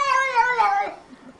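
A cat gives one drawn-out, wavering meow, close and loud, trailing off into quiet room noise.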